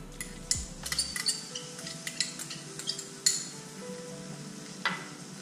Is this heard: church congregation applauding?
no